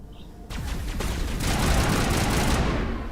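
Gunfire in Mass Effect, a dense continuous burst of rapid shots that starts abruptly and stays loud and close for about three seconds, with no talk over it.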